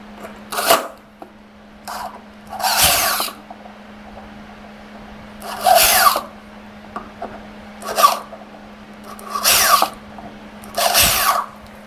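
A power drill bores small holes while fitting a digital password door lock. It gives roughly seven short, loud whirring bursts separated by pauses, over a low steady background hum.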